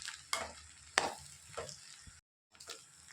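Egg fried rice with coriander stirred in a pan, several loud scraping strokes of a spatula over a soft sizzle, close, with a brief silent gap before stirring resumes.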